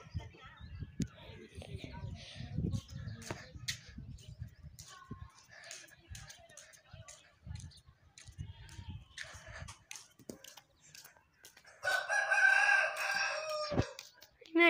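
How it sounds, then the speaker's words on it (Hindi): A rooster crows loudly near the end, a bright drawn-out call following a stretch of nearby talking and household noise. "ये हमारा मुर्गा है"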